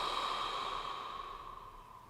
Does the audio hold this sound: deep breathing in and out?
yes